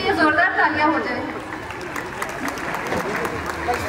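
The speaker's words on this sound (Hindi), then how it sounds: "इनके लिए जोरदार तालियां हो जाए" Audience applause at a school Grandparents Day celebration, dense clapping under a speaking voice that carries through the first moments, continuing as a steady mid-level patter.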